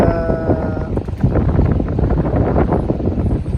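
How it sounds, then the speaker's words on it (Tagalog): Strong wind during a rainstorm in Abu Dhabi roars and buffets the microphone in gusts, a loud, rough rush with no one speaking. "malakas ang hangin"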